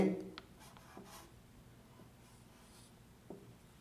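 A pen writes Urdu letters on paper with a few faint, short scratching strokes. The strokes are spaced apart against quiet background noise, with a low voice faintly present.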